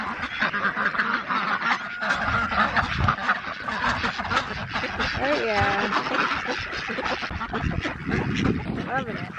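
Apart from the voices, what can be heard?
ducks quacking in garden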